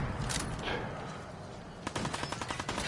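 Gunfire in Fallout 4 during a firefight: a quiet stretch, then a rapid cluster of sharp shots near the end, moderately loud with no talk.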